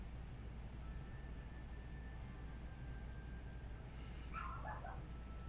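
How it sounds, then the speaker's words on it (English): A dog barks in the background of a quiet indoor room, a short cluster of faint, distant yips near the end over a low steady hum. "I don't know if you can hear my dog barking in the background."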